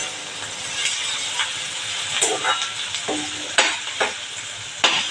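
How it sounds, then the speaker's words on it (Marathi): Dried red chillies hit hot tempering oil and crackle close up in a sizzling wash, with a few sharp pops and scraping stirs over the hiss of the pan. "अर्धवट फोडणी होत आली की टाकायची, म्हणजे सुकी मिरची तेवढ्या उष्णतेवर व्यवस्थित भाजली जाते"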